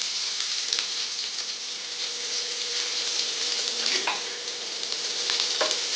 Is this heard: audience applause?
no